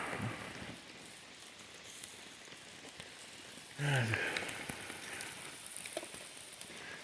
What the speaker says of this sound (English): Well, here it is, Saturday night, pouring down rain.